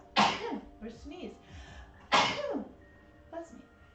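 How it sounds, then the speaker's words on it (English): Two loud, close sneezes about two seconds apart, each a sharp burst followed by a short trailing breath, with a softer throat sound near the end in a quiet room. "Or sneeze."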